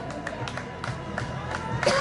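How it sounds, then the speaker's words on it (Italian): Applause and cheering from the team and crowd at the Presenzano race, a steady wash of clapping with voices mixed in that swells near the end. "bello l'applauso di Presenzano"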